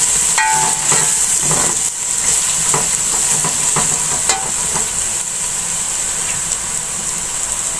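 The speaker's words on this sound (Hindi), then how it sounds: "2 टीस्पून खुशक धनिया पिसा हुआ, अब इसको मिक्स कर लेंगे" Ground coriander is stirred into frying chicken curry in a pot, giving a continuous hissing sizzle with scattered spoon scrapes and clinks, no talking.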